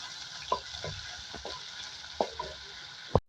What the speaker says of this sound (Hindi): देखिए इसी ऑयल में मैं 1 खाने का चम्मच अदरक लहसुन का पेस्ट डालूंगी। इसको भी फ्राई करूंगी